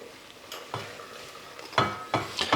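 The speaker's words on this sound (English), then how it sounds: "so now we can start stirring in our flour" Flour being stirred into melted butter in a pot to make a roux for béchamel, a few scraping strokes and soft clinks of utensil against pan, growing louder toward the end, with no talking.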